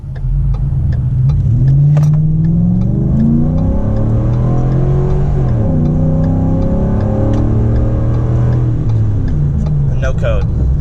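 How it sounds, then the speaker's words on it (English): Car engine revving hard under full throttle after a cold air intake install, a loud sustained rising drone that climbs through the gears with brief dips at shifts, close and dominant throughout. "Okay, another acceleration."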